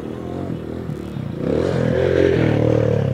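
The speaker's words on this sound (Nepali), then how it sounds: "अहिले डट बाइक आइरहेछ त." A dirt bike ridden on a rough road beside a river in Nepal, its engine rising from a steady drone to a louder, fuller roar as it draws near and passes close by.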